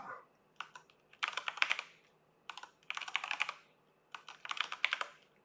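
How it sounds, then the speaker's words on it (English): Close computer keyboard typing in three quick, clattering bursts separated by short pauses, with no talking over it. "How y'all like that typing?"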